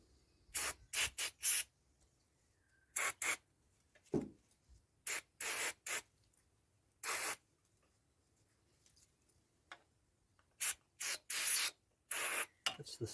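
Short sharp bursts of carburettor cleaner spray blast through a lawn mower carburettor on a late-1950s Victa 18 Special rotary mower, a dozen or more hissing puffs in irregular clusters separated by quiet gaps, close and loud.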